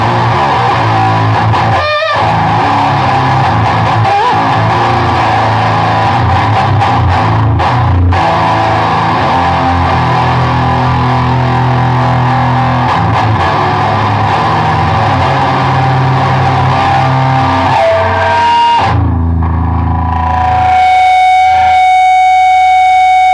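Electric guitar through a TC Electronic Eyemaster pedal at full gain, thick and loud, with sustained saturated chords and notes that break off near the end into a brief ringing tail, no talking.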